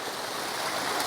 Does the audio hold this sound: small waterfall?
yes